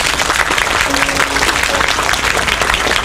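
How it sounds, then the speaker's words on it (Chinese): An audience applauds steadily at a memorial concert for the 228 Incident, a dense crowd clapping that fills the space without pause. "大家的掌声不够高"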